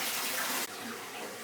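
Water pours steadily and loudly into a 600-gallon Asian jungle aquarium during a 50% water change, a dense continuous rush whose tone shifts slightly partway through.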